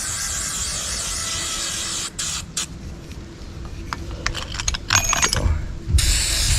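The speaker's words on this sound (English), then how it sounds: "Spray her down again real quick" An aerosol spray can hisses onto a go-kart part in a DIY repair, a steady spray for about two seconds, then short bursts and faint handling clatter before the spray resumes loudly.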